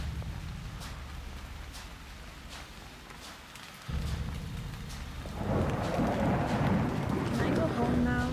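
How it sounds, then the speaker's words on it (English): Thunder rumbles with steady rain in the horror video game Haunt, the storm growing louder and denser midway, with a player's voice audible at times over it. "thunder keeps scaring me."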